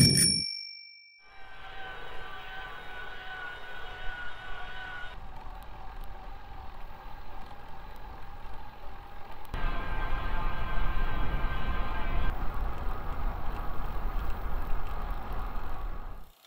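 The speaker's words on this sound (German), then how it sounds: "Wir starten mit zwei verschiedenen Rennrädern in langsamer und schneller Fahrt, also mit 12 und 22 km/h." Road bikes ridden slowly at 12 km/h and then faster at 22 km/h give a steady, faint whir of tyres and drivetrain that grows louder partway through, after a single bright ding at the start.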